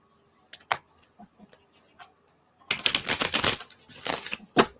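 Tarot cards are shuffled by hand, a few soft riffles and taps at first, then a louder, dense burst of flicking and clattering cards up close.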